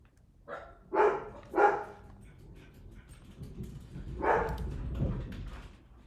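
Dogs barking indoors, with a few sharp barks close together and then a longer burst, over a quiet room background.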